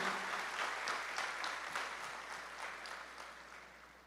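Scattered applause from a church congregation during a sermon, a soft, distant patter of clapping that gradually tapers off.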